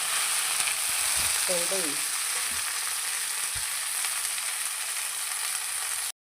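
Fenugreek leaves fry with browned garlic in a pan, giving a steady, close hiss and crackle of hot oil throughout, with a brief voice speaking near the start.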